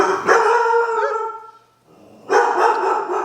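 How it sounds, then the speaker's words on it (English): A dog barks at a mail carrier arriving at a home, two loud bursts of harmonic barking and howl-like yelps separated by a brief pause, close to the microphone with no talk. "Let me see what my dog's barking at."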